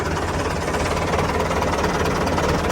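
A Ford 6600 tractor idling without throttle while its hydraulics lift the front: a loud, steady diesel rumble with a knocking pulse throughout, close up.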